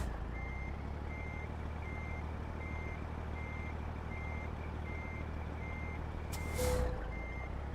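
A truck in a video game reverses with a steady, evenly spaced electronic beeping over a constant low engine rumble, with a brief hiss of air near the end.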